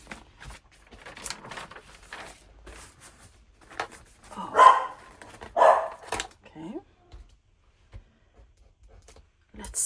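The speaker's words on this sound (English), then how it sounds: "Sorry about the dog. I think she's hearing someone coming home." A pet dog indoors at home gives a few loud yips and barks, spaced apart, amid quiet room sound, with someone speaking briefly in between.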